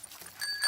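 A bell rings on Peppa Pig's bicycle, a brief bright ding with a lingering tone, heard once near the end of a short moment.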